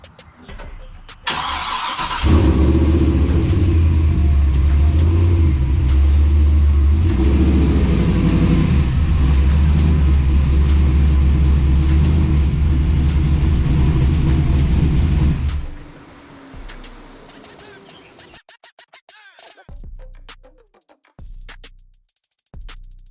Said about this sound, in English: I'm gonna go ahead and pull the truck in, get the hood off